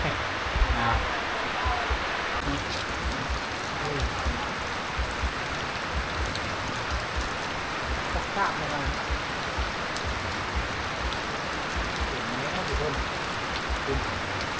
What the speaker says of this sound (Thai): ฝนตกห่ำเลย